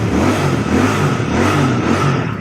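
A new Royal Enfield Bear 650 motorcycle runs under way, its exhaust giving a loud, steady low engine drone that rises slightly in revs, recorded close to the bike.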